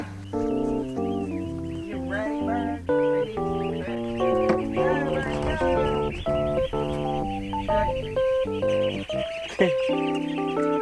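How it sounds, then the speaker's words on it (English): A noisy flock of chickens clucks and squawks continuously, many birds overlapping up close in a busy, chattering din. "Noisy little birds."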